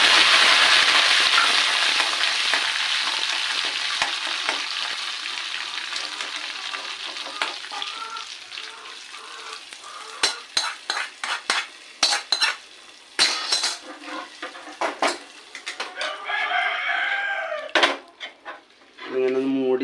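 Shallots, green chili and curry leaves hit hot oil for a tempering, starting as a loud, bright sizzle that slowly fades. Sharp clinks of a spoon against the pan follow, with a voice speaking briefly near the end.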